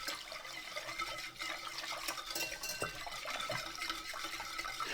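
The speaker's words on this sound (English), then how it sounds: "This goes in and we give it a real good stir." Salt is stirred into 300 ml of just-added boiling water in a dish to make brine for pickled onions, giving busy liquid sloshing and scraping close up, with no talking.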